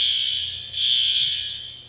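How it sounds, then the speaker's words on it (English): A fire alarm sounds with a steady, piercing high electronic tone, loud and close, holding continuously with a brief dip partway through. "It's a fire alarm."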